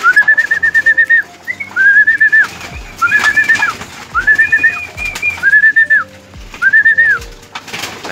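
Pigeons come back into their loft over a landing board, with loud, repeated whistle-like calls recurring in an even rhythm and a few soft low thumps between them.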